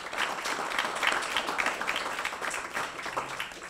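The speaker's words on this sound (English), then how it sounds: "If we can give them a round of applause." Steady, sustained applause from an audience thanking a panel of speakers, a dense wash of many hands clapping continuously at moderate volume with no voices on top.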